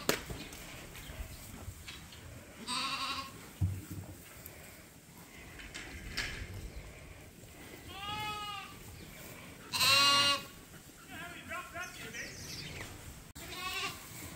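Lambs on a sheep farm bleat in several short, wavering cries, some near and loud, others fainter, scattered over a quiet pen with light rustling and occasional soft talk.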